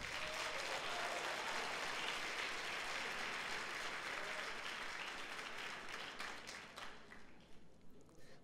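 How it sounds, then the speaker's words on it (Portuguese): A church congregation at a Sunday service applauds in a long, even wave of clapping that fills the room at steady strength, then loosens into separate claps near the end. The sound is heard from a distance. "Então dê um aplauso ao Senhor"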